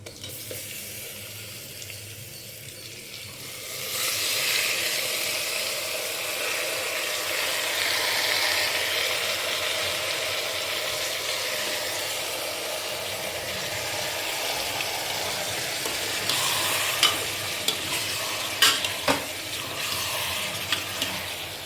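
Mutton pieces frying with onions and fenugreek leaves in a pan: a low hiss swells into a fuller, steady sizzle after a quieter opening, with a few sharp stirring clicks near the end.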